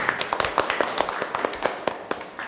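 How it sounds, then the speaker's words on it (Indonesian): A classroom of students gives Mia a brief round of scattered, close clapping during a physics lesson on elasticity, with quick irregular claps over about two and a half seconds. "tepuk tangan untuk Mia"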